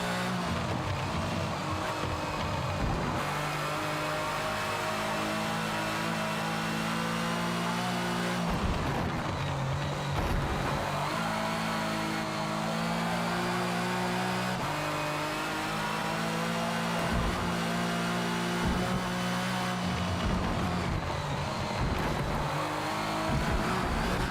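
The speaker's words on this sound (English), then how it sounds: "Car just jumping around, ain't that great?" Video game car engine revving and roaring steadily throughout, with repeated surges and dips in pitch as the car jumps around, loud and continuous with no talk.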